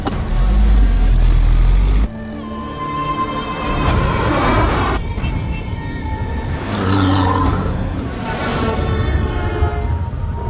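A car drives off with a loud, steady engine rumble that shifts pitch after a couple of seconds, continuing as a sustained motor drone through the scene.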